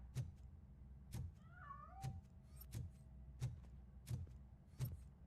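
A cat meows once inside the RoboCop: Rogue City video game, set against a steady run of soft repeated clicks or taps that pulse at regular intervals.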